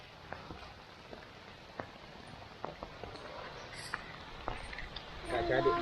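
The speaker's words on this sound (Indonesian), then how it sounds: "Hujan, guys." Light rain patters on a mountain hiking trail on Gunung Burangrang, scattered faint drops and taps over a soft hiss, quiet and close, with a brief brighter sound near the end.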